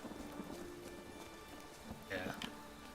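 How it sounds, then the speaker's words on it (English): Rain falls in The Witcher 3, a faint, soft patter under the game's ambient sound, with a brighter swell of noise near the end. "Hey, it's raining."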